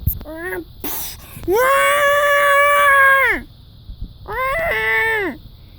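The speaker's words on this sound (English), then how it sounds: "giving her a weird Tyrannosaurus romantic screech" A Tyrannosaurus gives a romantic screech: three loud, wailing, moan-like calls, a short one, then a long sustained one, then another after a pause, each bending down in pitch at the end.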